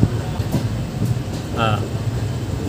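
A train rolls out of Bikaner railway station at night with a steady low rumble and faint rail clatter from inside the carriage, while a voice talks over it.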